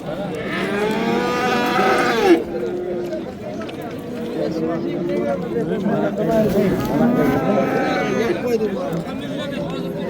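Cattle at a livestock market low repeatedly in long, drawn-out moos, close and loud, one after another across the clip, amid the chatter of a busy crowd.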